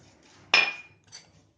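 A single sharp metallic clink rings out as sifted maida flour for a namak para snack dough goes into a large metal mixing vessel, loud and brief with a short ringing tail, then a faint second tap.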